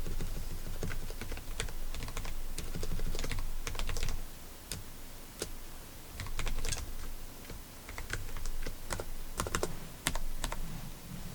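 Someone types on a computer keyboard in quick, uneven bursts of close, crisp key clicks with a few short pauses, while a low background hum runs underneath.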